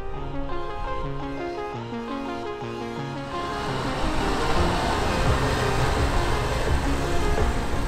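A Deutz-Fahr 6 series tractor drives on a road test track, its engine a steady low rumble that grows louder and rougher about halfway through as it passes close, no talk over it.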